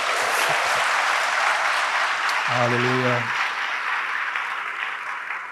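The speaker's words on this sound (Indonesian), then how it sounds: "Berikan tepuk tangan kita untuk Tuhan kita." Congregation applause during a church service, a dense sustained wash of clapping throughout, with a single voice calling out briefly in the middle.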